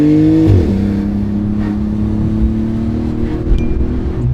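Porsche 911 GT2 RS sports car on a mountain pass, its engine droning loud and close with a steady rising tone after a brief shift-like dip, running continuously with no talk.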